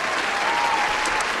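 A brief burst of recorded crowd applause, loud and even throughout, added as a short reward sound in a math lesson.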